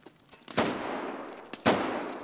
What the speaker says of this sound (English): Now I hear gunshots to the left.